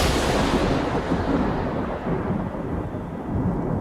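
Thunder follows a lightning strike, a dense, loud rumble that rolls continuously for several seconds and slowly eases off. No talk is heard.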